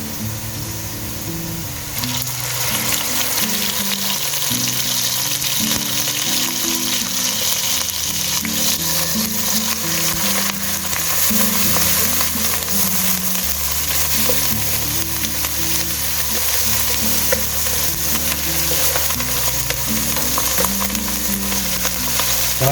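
Onions browning in hot oil sizzle steadily as ginger and garlic go in for a beef keema with capsicum, a loud, continuous frying hiss with occasional stirring scrapes throughout.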